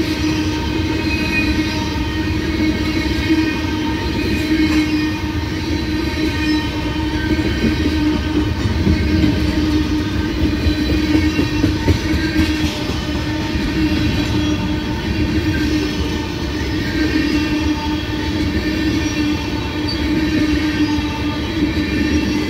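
A CSX ethanol freight train hauled by two SD70 locomotives, one flared, rolls past at a Reals Mill Road crossing, its steady, loud rumble of rail cars continuing without a break and with no talk.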